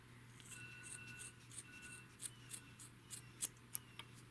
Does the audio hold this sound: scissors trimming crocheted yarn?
yes